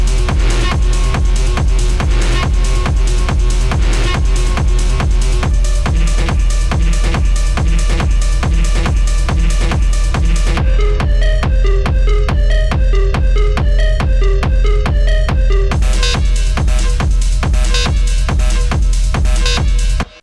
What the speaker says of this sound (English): Today we're gonna make some industrial techno sound that sound like this.